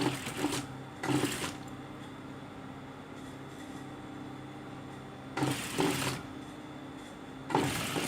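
A sewing machine stitches a seam on a sleeveless garment's armhole, running in short loud bursts of rapid whirring separated by a steady low hum, close and clear with no talk.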